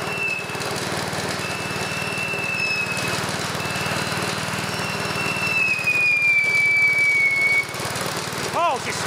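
A Fisher & Paykel Smart Drive motor running as a generator whirs steadily and lets out thin, high squealing whines that rise and fall, with someone talking nearby.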